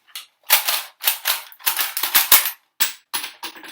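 A fake toy gun with an orange tip snaps off a string of sharp cap-style shots, roughly a dozen loud close pops in uneven clusters separated by brief silences, with no talking.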